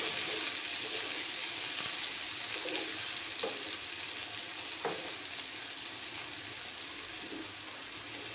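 Steady sizzling of onion paste frying in a pan, with occasional faint scrapes of stirring; continuous and moderately quiet, no voices.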